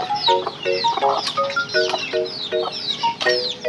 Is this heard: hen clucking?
yes